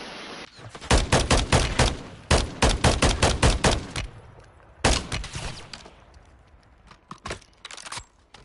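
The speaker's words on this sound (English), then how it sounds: "Alright, stop shooting." Rapid bursts of automatic gunfire crack loudly in Call of Duty MW3 ranked play, dense volleys of shots in quick clusters, then sparser, fainter shots trailing off toward the end.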